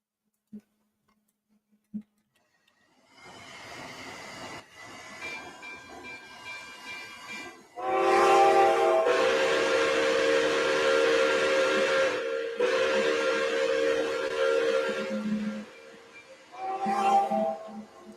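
A steam locomotive whistle in a video game sounds loud and sustained after a hiss of steam. Long harmonic blasts with a short break are followed by a final shorter toot.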